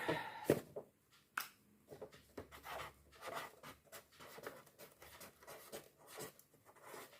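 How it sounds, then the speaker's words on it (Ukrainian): A pen scratches out a label on a sticker for seed trays of peppers and eggplants, giving soft, irregular strokes and taps at close range over a quiet room. "Пишемо стікер."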